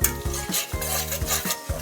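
A spice mixture of black pepper powder and dried coriander cooks over a good flame in a pan, stirred with rhythmic scraping strokes over a close sizzle, with no talk.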